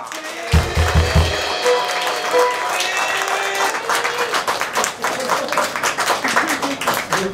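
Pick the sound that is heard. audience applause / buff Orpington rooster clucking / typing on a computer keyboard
audience applause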